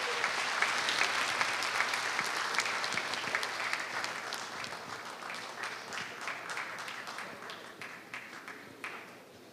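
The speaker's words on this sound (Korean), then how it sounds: "여러분 힘찬 박수로 환영해 주십시오" Audience applause at a Korea University alumni choral festival, a dense, sustained wash of many hands clapping throughout a hall, steady and fairly loud before easing slightly toward the end, with no talk over it.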